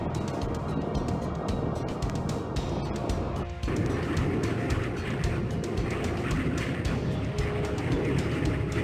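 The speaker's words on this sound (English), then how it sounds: "Launching aircraft." Aircraft launching in the naval strategy game Jane's Fleet Command: a broad jet roar that holds steady with a sharp shift partway through, then a continuous rushing engine drone, with no voices.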